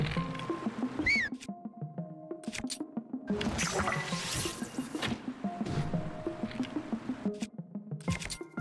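Water falling and splashing in the video game Zelda: Tears of the Kingdom, with wet squishing and dripping effects over a steady game music bed, rising to a louder wash in the middle.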